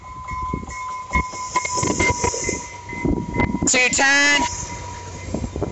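Southbound FrontRunner commuter train passing Clearfield station, loud rumbling and clattering with a brief harmonic horn blast midway, while a person talks over it.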